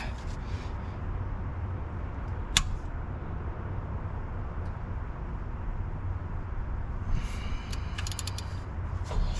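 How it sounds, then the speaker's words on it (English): A 1/2-inch ratchet works on a 413 big block Mopar engine from a 1961 Imperial during disassembly: a single sharp click against quiet hum, then a quick run of faint ratcheting clicks near the end. "got a 1/2-inch ratchet"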